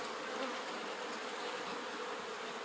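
A steady, dense buzz of honey bees swarms close around a hive, continuous and even throughout with no voices.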